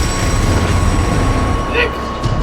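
A prison transport train rumbles past in Destiny 2, a steady heavy roar of rolling rail cars with a brief metallic squeal near the end.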